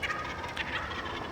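A wild turkey gobbles outdoors in a brief rattling burst at a moderate distance, over steady low background noise.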